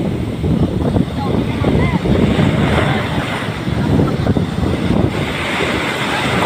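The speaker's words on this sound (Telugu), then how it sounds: "అరే అలలు బాగుతున్నాయి" Waves break and churn on a beach in a loud, unbroken rush, heavy with wind noise on the microphone, while voices talk faintly underneath.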